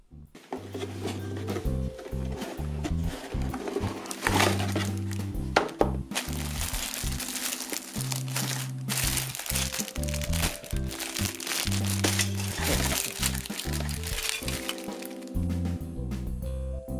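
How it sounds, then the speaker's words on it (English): Single-edged hobby nippers snip through a plastic sprue gate, giving sharp little cracks and crunches against steady background music. "the cutting edge shaves through that said part."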